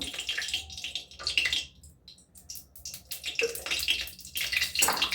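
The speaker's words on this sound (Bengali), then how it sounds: "কড়াইয়ে সরষের তেল দেব" Mustard oil pours into a wok in uneven splashing bursts with short pauses, close and fairly loud, like liquid trickling and gurgling.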